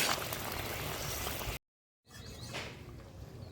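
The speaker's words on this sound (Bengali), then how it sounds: "ঝোল ভালো করে ফুটে গেছে দিয়ে দেবো মাছ মাছগুলো দিয়ে আর একটুখানি ফুটিয়ে নেব" Fish curry broth bubbling vigorously in a pot after the fish goes in, a dense, steady hiss of boiling that cuts off briefly, then resumes a little softer with bursting bubbles.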